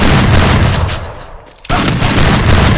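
Dense gunfire from the mobile battle royale game Free Fire, loud and continuous bursts with a short lull around the middle before the shooting resumes at full strength.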